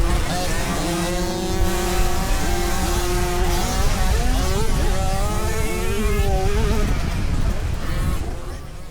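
Small-displacement two-stroke motocross bikes, including a KTM 50, race in a bunched pack, engines whining and rising in pitch as riders pass and accelerate, loud and continuous with overlapping engine notes.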